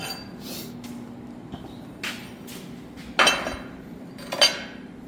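Metal end caps fitted onto a 76-style derby bumper kit, giving a few sharp metallic clinks and knocks spaced apart, close up, with no talking.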